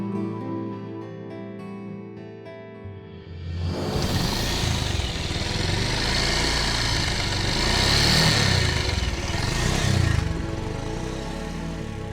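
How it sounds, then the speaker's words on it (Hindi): A motorcycle engine rumbles nearby, starting up after a quieter stretch of sustained tones and then holding a steady, moderately loud running drone with slight rises in intensity. "आपने वो बाइक की आवाज सुनी?"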